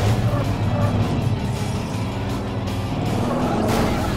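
A car drives past in the zombie video game Dead Rising 3, a steady engine rumble with road noise running loud and continuous throughout.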